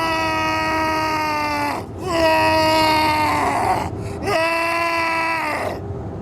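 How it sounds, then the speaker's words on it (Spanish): A long, high, desperate scream in a horror audiobook, heard in three sustained harmonic bursts separated by short breaks, loud and alone with no talking. "Fue entonces cuando escucharon el primer grito."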